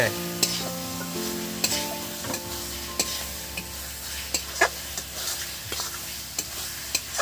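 Mutton fat sizzles steadily in a pan with spices for a soybean dish, while a spatula stirs and scrapes it in repeated sharp clinks over the constant frying hiss.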